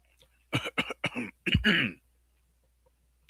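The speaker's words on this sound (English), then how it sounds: "It's too early to start coughing" A close burst of several harsh coughs in quick succession, ending with a longer throat-clearing hack, then quiet.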